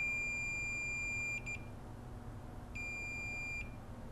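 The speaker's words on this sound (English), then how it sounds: "we get a beep, but not a consistent beep." A multimeter continuity tester emits a long high-pitched beep that cuts off with a short blip, then a second, shorter beep after a pause over faint hum, probing a fuse on a MacBook Air logic board.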